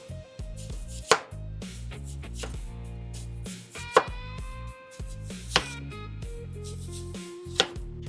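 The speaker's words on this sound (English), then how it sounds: "I have to cut up another onion" A knife chops an onion on a cutting board in steady rhythmic strokes, close and clear, with a few sharper louder knocks standing out.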